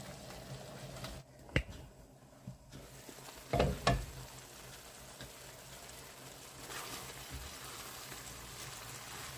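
Liver fries in a pan with no butter or cream added, a soft steady sizzle with a few sharp spatula clicks and scrapes in the first half, close by and without speech.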